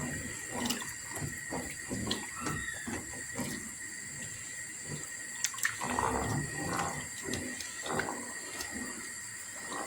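Water pours into a pot of green lentil soup, a close, steady splashing trickle with a few brief surges, alone without any talk.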